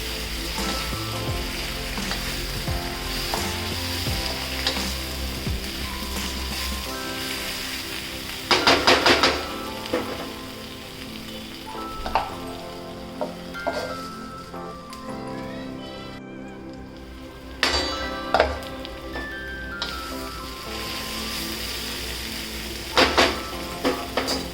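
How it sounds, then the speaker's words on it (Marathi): Dried Bombay duck fish frying in spice masala on an iron tawa: a steady low sizzle runs throughout, broken by sharp scraping and clattering bursts of a spatula stirring against the pan. "बोंबलाला चांगलं परतून घ्यायचं मसाल्यामध्ये"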